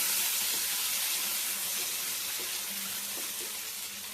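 Curry leaves and chili-garlic paste sizzling in hot oil, a dense continuous hiss with faint crackles and pops scattered through it, steady and close.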